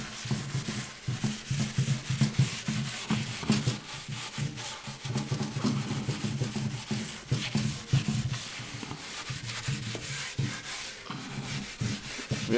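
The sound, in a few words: scrubbing end table with paint thinner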